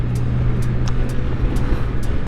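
A motorcycle engine runs steadily while riding, a loud, continuous low rumble with a faint periodic ticking over it.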